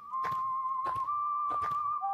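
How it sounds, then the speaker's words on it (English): A character whistles a tune in the video game Lisa the Joyful, a steady sustained whistled melody with three bursts of soft rhythmic shuffling noise around it, fairly quiet. "he's the one whistling the music."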